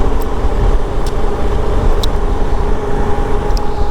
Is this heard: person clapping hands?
no